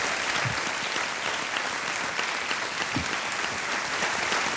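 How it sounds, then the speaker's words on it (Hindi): A television studio audience on the quiz show Kaun Banega Crorepati applauds, with sustained dense clapping that stays even and loud throughout, without talk. "तालियां बजती रहें इनके लिए।"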